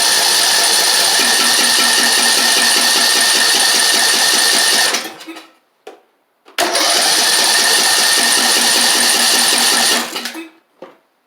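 A Craftsman YT4000 lawn tractor engine cranks loudly in two long bursts of about five seconds each, separated by a short pause. Each burst is a rapid, even churning from the starter, and the engine does not catch in either.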